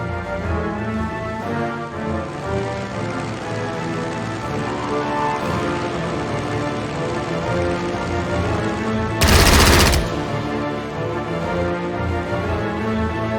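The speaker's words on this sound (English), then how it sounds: "Strafing them." Aircraft strafing run with machine gun fire in the wartime strategy game Strategic Mind: a dense, steady battle din of rapid gunfire crackling like rain, broken by one loud broadband burst near the end.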